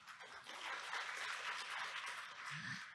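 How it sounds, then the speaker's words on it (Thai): Participants at a stock-investing workshop applaud together, a continuous even patter of many hands clapping throughout, moderately close, with a brief low voice near the end. "ปรบมือให้ลูกหมูหน่อยค่ะ"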